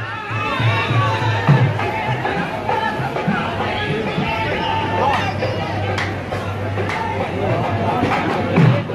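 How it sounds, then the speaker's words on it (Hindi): A crowd gathers at Khwaja Garib Nawaz Dargah in Ajmer, with a busy murmur of many voices, occasional shouts and faint music in the background, and someone talks close by throughout. "पायथी में भीड़ हो गया"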